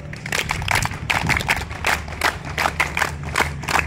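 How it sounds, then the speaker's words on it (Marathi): A group of scout trainees delivers a rhythmic scout clap at a training closing ceremony: a steady run of sharp, evenly spaced claps in unison, fairly loud and close, with faint crowd murmur beneath. "scout clap go"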